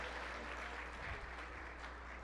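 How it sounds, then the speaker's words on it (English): Applause from a gala audience, a steady dense wash of clapping that carries on evenly for a couple of seconds at a moderate distance. "So a big round of applause for all the dignitaries who are with us tonight."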